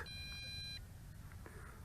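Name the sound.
JJRC X8 quadcopter beeping at power-up, ready to calibrate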